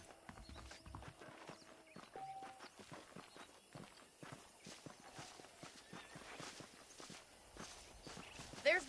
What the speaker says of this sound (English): The horses are saddled up over here.